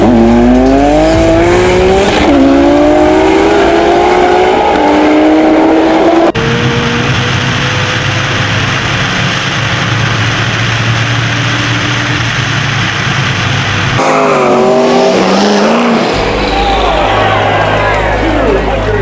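A Xona-powered Ford GT350 race car making about 1497 wheel horsepower roars through a half-mile pass at nearly 193 mph. Its engine is loud and close, pitch climbing through gear changes, and people talk over the noise.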